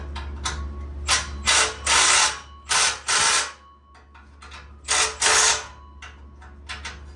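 A ratchet clicks in several short bursts while tightening clamps on a car setup, close and distinct, with brief pauses between the cranking strokes and a low steady hum underneath.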